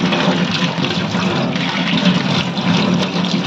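Mangoes are washed in water, a loud, close rush of splashing and sloshing liquid that runs steadily throughout without pause or talking.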